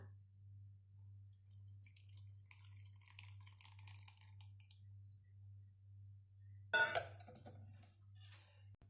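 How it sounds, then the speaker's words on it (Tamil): Boiled agar-agar seaweed liquid for mango pudding being poured through a kitchen strainer, with faint dripping over a low steady hum, then a sudden louder splashing pour near the end. "இப்போ இது மாதிரி ஒரு ஸ்ட்ரெயினரில் அதை வடிகட்டி எடுத்துக்கலாம்."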